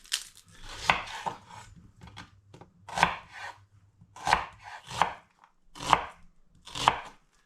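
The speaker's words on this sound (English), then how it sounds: "I'm going to dice it into nice small pieces" An onion being diced into small pieces with a knife on a board, a series of crisp, close chops in irregular bursts with short pauses between them, no voices.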